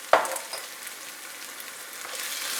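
Sausage and potatoes fry in a pan as white wine is poured in: a sharp hissing burst at the start softens into a steady, fairly quiet sizzle that carries on alone with no talking.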